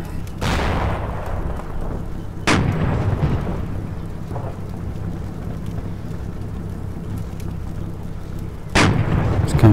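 Gunfire and shell bursts in the WWII tactics game Combat Mission Market Garden, with three sharp, loud booms at the start, middle and end over a steady low rumble of battle.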